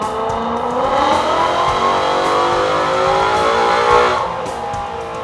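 A car engine on a dyno with a nitrous system armed revs hard and loud close by, sweeping up through the rev range across several seconds with no voices.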